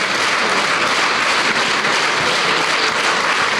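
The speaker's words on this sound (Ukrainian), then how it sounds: "Виступи музикантів глядачі супроводжували оваціями" Dense, loud, continuous applause from a festival audience for musicians, an unbroken ovation with no talk over it.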